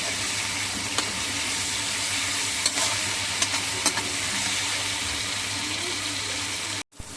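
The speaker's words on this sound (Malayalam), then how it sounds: "ഇനി നമുക്ക് തക്കാളിയും ഇട്ട് നന്നായിട്ട് വഴറ്റി എടുക്കാം." Tomatoes sautéed with onions, green chillies, ginger and garlic for chicken curry, a steady hiss of frying with a few faint spatula taps against the pan, no voices.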